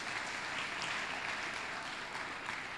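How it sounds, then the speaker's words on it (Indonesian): A large audience at a university opening ceremony applauding, dense and sustained clapping at an even level with no talk, a broad wash of hands throughout. "Mohon tepuk tangan, saudara-saudara sekalian"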